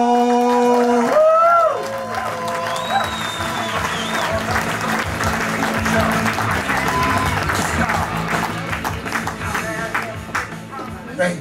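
A comedy club crowd at the Red Bike on Vashon Island breaks into loud sustained applause and cheering as comedian Richard Moore is welcomed onstage, with a few voices calling out in the mix.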